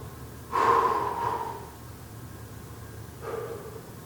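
Deep breathing during a yoga sun salutation, with a strong close exhale or snort-like breath followed later by a softer second breath, each heard alone over quiet room noise.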